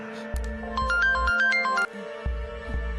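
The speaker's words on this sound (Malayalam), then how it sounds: "ഷെറിനെ വിളിച്ച ഫോൺ കോളായിരുന്നു" A phone rings with a melodic tune of rapid, bright electronic notes for an incoming call in a Malayalam crime thriller film scene. The ringtone is loud and close over a low musical drone.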